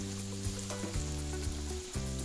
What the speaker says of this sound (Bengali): আর একটা পিঠ ভাজা হচ্ছে।